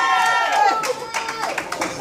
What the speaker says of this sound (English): Give a big cheer there.